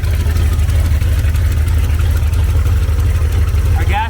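A 1971 International Travelall engine idles on choke, steadily and loudly up close, a low rumbling drone that holds even throughout, with a brief higher squeak near the end.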